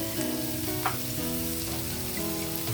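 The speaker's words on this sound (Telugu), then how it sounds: "కొద్దిగా కారం వేసేసి అరటిపువ్వు యాడ్ చేస్తాను." Chopped banana flower with a pinch of chili powder frying in a pan, giving a soft, even sizzle under a faint steady hum, with one brief crackle midway.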